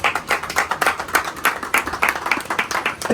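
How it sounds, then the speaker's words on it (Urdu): A crowd gathered for the Governor of Gilgit-Baltistan, Syed Mehdi Shah, claps in a fairly even, moderately loud rhythm of individual hand claps that stays steady throughout, with no one speaking over it. "تو ان کے لیے ذرا تالیاں ہونی چاہیے."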